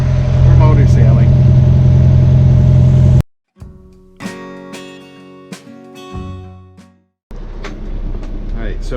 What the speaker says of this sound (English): Well, we're motor sailing.